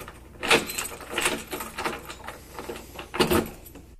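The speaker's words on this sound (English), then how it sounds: "Let me open the door." A door is opened in a drama: a few sharp clicks and rattles, like a handle and latch with a possible jangle of keys, close by and in quick succession.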